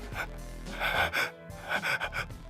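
Heavy, ragged breathing from a JoJo's Bizarre Adventure anime character, with gasping inhales and panting exhales in uneven bursts over a low background tone.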